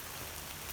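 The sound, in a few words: rain falling while walking on trail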